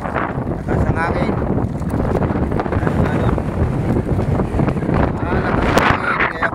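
Strong wind buffets the microphone on a small fishing boat at sea. The rumble is loud and continuous, with gusty roaring, splashing water and a voice speaking under the noise.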